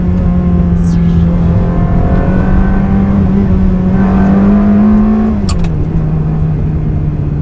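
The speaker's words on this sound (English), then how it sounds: "there's nothing like downshifting a gated manual" A Ferrari 360 Spider with a gated manual gearbox drones loudly from inside the cabin, its engine note rising steadily under load, then dropping as it downshifts before a bend, with a brief mechanical clack near the shift.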